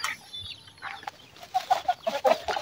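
Hens and a rooster cluck nearby on a small farm, a run of short, close, rhythmic clucks in the latter half, alone without talk.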